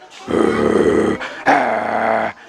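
A person's voice imitates a dog, with a rough growl followed by a sharper bark-like burst, close and loud, with no other sounds around it.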